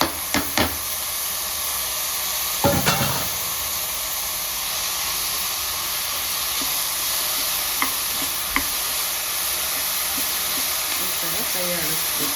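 Chopped banana stem hits a hot pan with a sharp clatter, then a steady sizzle and hiss carries on, broken by a few scraping stirs.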